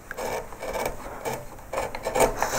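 Flat gouge slicing across a wooden surface while carving lettering on a beer caddy, heard close up as a series of short raspy scraping strokes.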